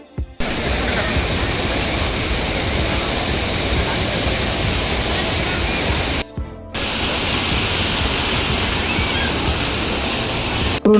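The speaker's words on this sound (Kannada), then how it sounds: "ಈ ಕಡೆ ಬಂದು ಫುಲ್ ನೀರು ಬರ್ತಿದೆ" Water rushes steadily through an exhibition water feature in Hyderabad, a loud, constant broadband roar that fills the scene, cut by one brief gap partway through.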